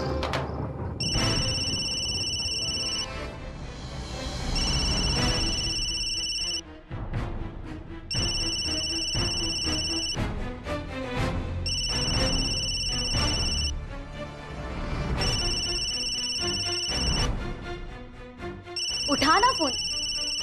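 A telephone rings in a Hindi TV drama scene, electronic ring bursts repeating at regular intervals under a dramatic music backing, loud and close.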